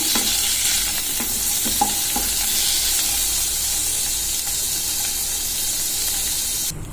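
Cauliflower fries in hot oil in a pan over a medium flame, giving a loud, steady hiss and sizzle. A few scraping stir strokes sound near the start.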